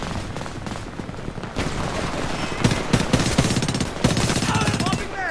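Rapid bursts of automatic gunfire fill a Homefront team deathmatch on the Lowlands map, with loud, dense volleys that are close and continuous and pick up in intensity toward the end.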